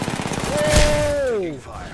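Gunfire in an Apex Legends match: a sharp shot burst with a whining, falling tone trailing after it, loud and close.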